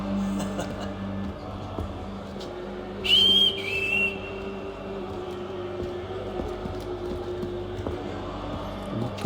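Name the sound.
whistle signal in video game Assassin's Creed 3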